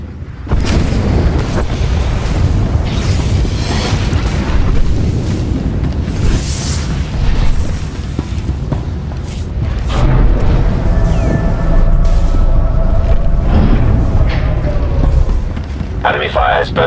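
Enemy fire hammering a starship in a sci-fi game scene, heavy continuous booms and rumbling impacts at full volume, with voices talking through the din.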